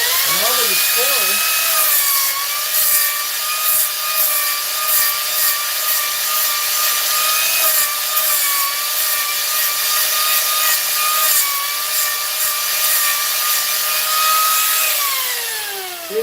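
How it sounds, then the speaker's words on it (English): A small carbide-toothed rotary power gouge carves wood with a steady high whine, its pitch dipping slightly as the head bites in, holding close and loud for about fifteen seconds before winding down. "It's like these little power gouge things. It's just a rotary head with carbide teeth on it."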